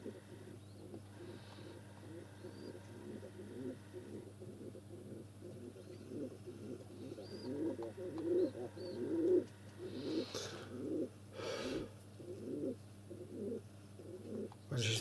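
Pigeons coo repeatedly nearby in soft, rhythmic bursts over a low steady hum, with a few faint rustles.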